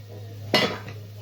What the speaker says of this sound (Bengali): তো ঢাকনাটা উঠিয়ে দিই